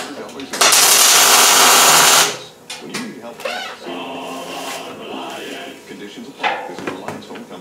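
Tack welding a steel leg onto a weld table: a loud, steady crackling buzz lasting about one and a half seconds, followed by quieter shop clatter and someone talking.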